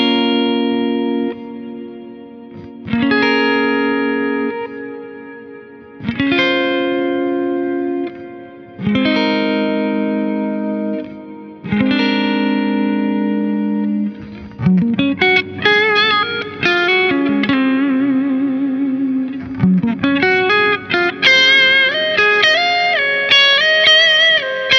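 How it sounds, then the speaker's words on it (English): A guitar played through a Fractal Audio AX8 set to the Deep Space reverb, with a decay of nearly nine seconds: sustained chords swell and hang, trailing into long washy tails, then a busier run of lighter notes near the end, with no talking. "Let's go for one that's really, really out there, the Deep Space reverb."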